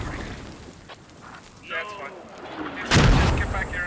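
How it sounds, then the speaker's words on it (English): Mortar and rocket fire in a competitive multiplayer shooter match, distant thumps and rumbling under a commentator's voice, ending in one loud, close blast near the end. "Like, oh man, rocket here. Mortar here."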